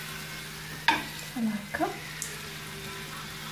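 Sfenj dough fries in oil in a pan, giving a soft steady sizzle with a few brief stirring clinks and bubbling pops, while a voice speaks briefly nearby.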